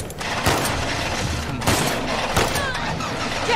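Bursts of gunfire in The Last of Us Part II, a rapid fusillade of shots with a few louder cracks over a dense, busy in-game background.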